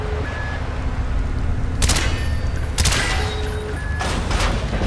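Gunshots blasting door hinges in Call of Duty: Black Ops, two or three loud sharp bursts spaced a second apart over a steady low rumble of game ambience.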